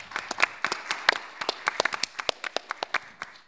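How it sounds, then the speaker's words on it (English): Modest seminar audience applauds the speakers: sparse, distinct hand claps from a small group, fairly quiet and irregular, tapering as it goes. "give a big round of applause to the speakers"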